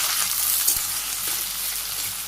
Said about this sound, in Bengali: প্রথমে আমি যে পেঁয়াজ ভাজি করে বেরেস্তা করে নিই, সেই জন্য ওই যে একদম গরম তেলে দিয়ে দিলাম